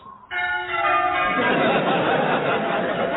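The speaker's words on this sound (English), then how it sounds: "Just listen to those bells. Aren't they magnificent?" Church bells ring loudly in a dense, resonant peal, building into a wash of overlapping tones that continues throughout, with faint chatter underneath.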